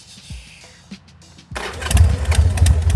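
A jockey shift motorcycle engine cranks briefly, catches and roars to life, then runs loud and close with a rough, throbbing idle.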